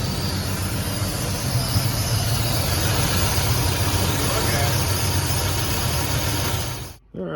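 A car engine, just repaired after a loose, flopping alternator, idles steadily and fairly loud with a constant rumble, then cuts off abruptly near the end.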